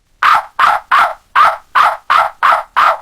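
A voice imitates a dog barking: eight short, evenly spaced woofs, loud and close, with brief silences between them.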